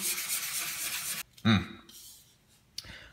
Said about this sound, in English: Now we're gonna start sanding this down. I'm gonna start with 220.